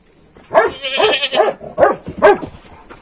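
A goat in a farmyard bleats several times in close succession, loud and near, with a faint voice in the background.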